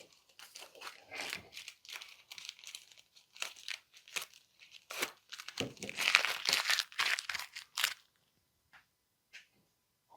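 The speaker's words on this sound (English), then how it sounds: "So I'm going to pull the tape off" Tape peels off a wooden book caddy in a series of short crinkling, tearing rips close by. The rips come in uneven bursts with brief quiet gaps between them.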